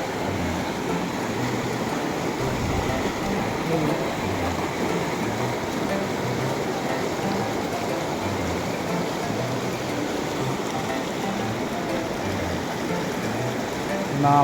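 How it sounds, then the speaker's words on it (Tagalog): Rushing water from a mountain river swollen after rain, a steady dense broadband roar that holds constant throughout, close and loud with no clear breaks. "Malakas na yung tubig"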